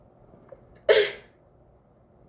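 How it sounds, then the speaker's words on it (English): A single sharp human sneeze, close and fairly loud, standing alone in an otherwise quiet moment. "Sorry, that was a sneeze."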